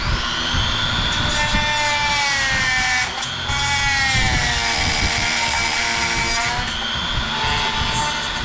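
A whining power tool cuts a line into a Ranch Hand bumper on a 2017-2022 Ford F250, running continuously and loud with its pitch rising and falling and a short dip midway.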